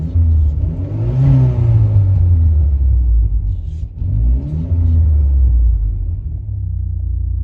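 Engine of a timing-belt car idling smoothly up close, a steady low rumble with mild rises in revs, continuous with no other sounds.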